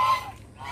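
Geese on a farm give a brief, fairly loud honk, then a quieter tail as they call out for food close by.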